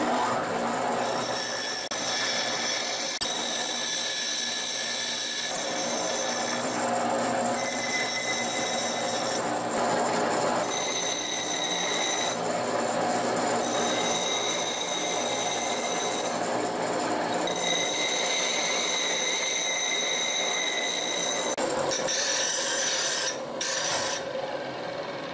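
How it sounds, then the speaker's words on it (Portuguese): A bench grinder shapes a wood-turning chisel held freehand without a tool rest, giving a steady high-pitched whine and rasping grind that rises and drops as the steel is pressed on and lifted off the wheel. "Aqui é mão livre no esmeril, não tem nem mesmo a guia do esmeril, que foi quebrada."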